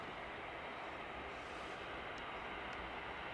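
Steady, broad jet-engine rumble of an aircraft taxiing in at East Midlands Airport on a freighter night, continuous and fairly distant with no talk.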